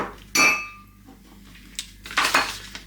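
Dishes holding crumble ingredients for an air fryer seafood crumble are shifted on a kitchen counter, giving two close clinks of glass and crockery separated by quiet, with a few light knocks between.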